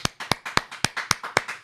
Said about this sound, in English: Wow, applause in the studio.